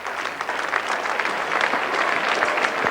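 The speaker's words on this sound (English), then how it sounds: "the crowd giving him a hand" A stadium crowd at a 1986 VFL Australian football match applauding an injured player, a broad, even wash of distant clapping from many hands that continues steadily.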